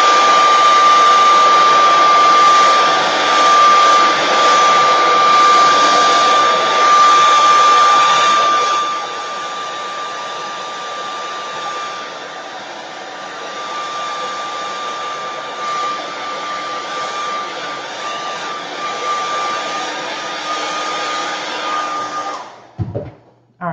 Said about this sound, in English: So cool hair dryer, cool.